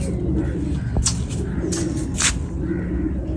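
Pigeons coo close by in a low, throaty murmur that runs continuously under brief sharp flutters and scrapes, with someone talking intermittently.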